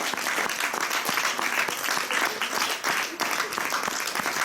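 Dense, sustained applause fills the room as the audience thanks the performers after the stage show Le Voleur de Couleurs, an even wash of many hands clapping at steady volume without a break.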